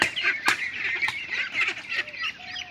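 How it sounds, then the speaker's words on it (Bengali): Khaki Campbell ducks on a farm give nasal quacks and honks, several birds calling over one another at moderate distance in a short burst. "এখানে ক্যাম্বেল হাঁস রয়েছে 100 পিস।"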